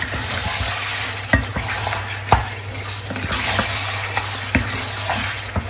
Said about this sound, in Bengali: মাংসটা এখানে এই যে একটু কষাই ফেলছি আমি